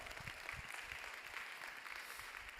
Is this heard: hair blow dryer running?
no